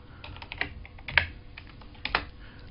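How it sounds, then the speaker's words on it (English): Keys on a computer keyboard tapped in short irregular bursts of clicks, close and moderately loud, with a few sharper strikes standing out and no voices. "I can also just type the numbers in"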